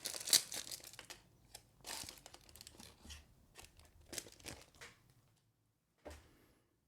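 A sheet of stickers from a Hobonichi 2026 planner haul is crumpled and crinkled up close, giving a busy run of papery crackles and rustles over several seconds that fades to a final brief crinkle.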